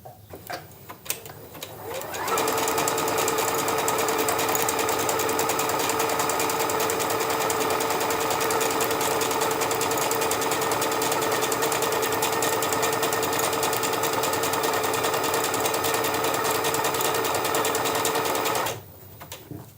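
A Bernette Chicago sewing machine stitches appliqué in one long, even, close run, a steady rapid mechanical whir that starts after a few faint clicks and stops abruptly near the end.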